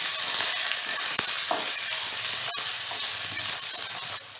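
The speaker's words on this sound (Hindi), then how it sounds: "अभी इसको मीडियम फ्लेम पे थोड़ा सा कलर चेंज होने तक फ्राई कर लेना है।" Two sliced onions frying with mixed spices in a pan over a medium flame for matar masala, a loud, steady hissing sizzle throughout with a couple of sharp clicks from stirring.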